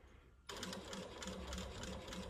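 A sewing machine stitches a topstitched placket in a rapid, steady whir that starts abruptly after a brief quiet moment and continues close and loud to the end.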